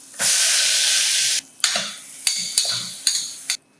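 Chopped cluster beans drop into a hot tempering pan with green chilli and turmeric, setting off a loud hiss that cuts off, followed by several sharp clinks and scrapes of a spoon stirring.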